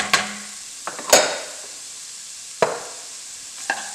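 Chopped celery and carrots cooking in a pan, with a soft hiss broken by a few sharp clanks and scrapes of a utensil stirring against the pan, close and with no talk.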